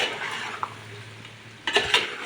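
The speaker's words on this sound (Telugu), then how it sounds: "ఇప్పుడు ఒక్కసారి చికెన్ రోస్ట్ని కలబెట్టుకోవాలి" Chicken roast made without masala is stirred in a pan over a high flame, a steady close sizzle with a spatula scraping and clinking against the metal, growing louder in a few quick strokes near the end, no talking.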